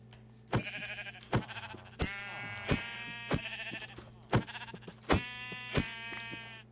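Sheep in a Minecraft-style video game bleat several times in a row, wavering nasal calls set between sharp clicking hits, all at a moderate level over a low steady background hum.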